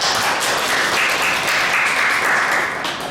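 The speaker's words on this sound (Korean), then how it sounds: "박수" A lecture audience of professors and students breaks into applause, a dense, even patter of many hands at steady loudness from start to finish, with no talking over it.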